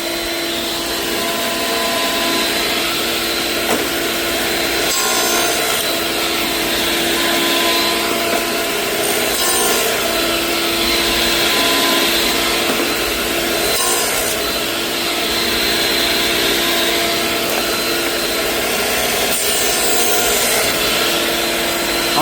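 A power saw cuts a with-the-grain dado in white oak for a kitchen remodel, a steady continuous whine and rasp of blade through wood running close and loud without pause.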